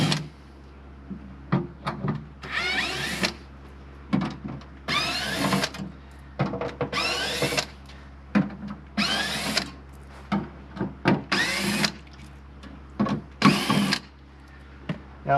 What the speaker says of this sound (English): drill motor, and off they come.